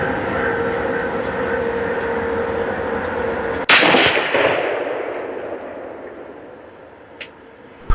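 A single sharp rifle shot cracks loudly during a youth deer hunt, its echo rolling away and fading over several seconds against a steady outdoor hum.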